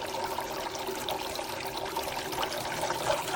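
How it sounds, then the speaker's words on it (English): Water trickles steadily from an AISITIN 20W solar-powered garden fountain pump into a basin with a rock, a continuous close splashing flow with no talking. "And here is the fountain."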